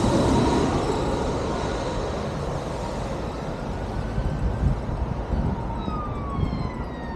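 A police siren wails in the distance near London Heathrow airport, its rising and falling tone faint over steady outdoor traffic rumble.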